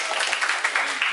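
Short burst of audience applause at a Vietnamese music video launch event, dense steady clapping throughout.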